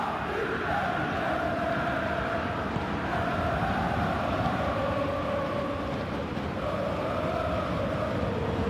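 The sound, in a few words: stadium crowd appreciating play in a football video game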